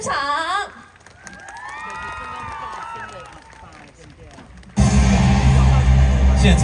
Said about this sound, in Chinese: 掌声、尖叫声，欢迎我们的霹雳三大男神登场